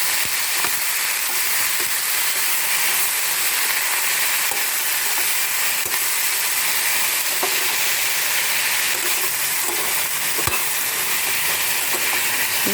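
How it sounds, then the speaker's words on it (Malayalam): Tomato and brinjal fry in a pan with a loud, continuous hissing sizzle and periodic spoon taps and stirring clicks against the metal. "നന്നായിട്ട് ഇളക്കി മിക്സാക്കാം കേട്ടോ"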